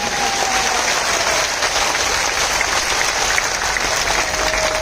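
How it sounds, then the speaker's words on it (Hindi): A large political rally crowd claps hard for a committee, a dense, even roar of applause holding steady throughout, with a faint tonal whistle or feedback line running beneath it. "जोर से ताली बजाइए उस कमेटी के लिए, साधुवाद दीजिए।"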